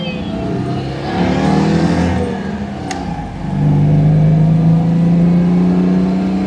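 Citroën 2CV driving along a scenic Welsh coast road, its small engine droning steadily from inside the car and rising in pitch and loudness as it accelerates partway through.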